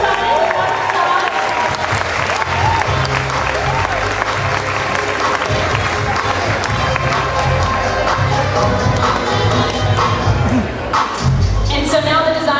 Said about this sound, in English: Can we get the first round of these beautiful designs and applause?